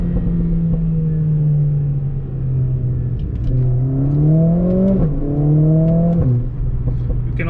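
A 2020 Mercedes-AMG CLA 45 S engine revving in race mode, loud and close, droning at idle-level then climbing through several sharp rising revs with quick drops between shifts.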